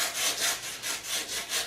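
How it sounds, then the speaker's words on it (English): A piece of graham cracker is sawn gently with a back-and-forth stroke, about six even, soft rasping passes in steady rhythm, heard up close with no speech. "Gently sawing, not pushing, pops off"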